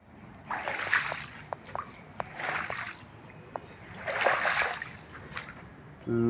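Water waves splashing and sloshing during monsoon rain in the mountains, in several broad washes that swell and fade, with a few sharp drip-like ticks between them and no voices.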